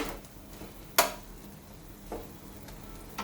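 Vegetables sautéing in a pan for tava paneer bhurji: a steady sizzle, with a spatula scraping and clinking against the pan a few times, and no voices.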